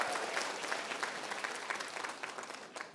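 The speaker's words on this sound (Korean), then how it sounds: "박수 소리가 너무 작아요" Applause from an auditorium audience, a thin, steady patter of scattered hand claps lasting the full three seconds at moderate distance, with no voices over it.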